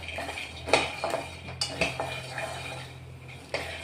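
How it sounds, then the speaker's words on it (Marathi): Peanuts roast in a thick-bottomed kadhai, a soft dry rustle under scattered metallic scrapes and clinks as a spoon stirs them against the pan. "शेंगदाणे तीळ भाजायचे असेल ना तर जाड बुनाची कढई घ्यायची"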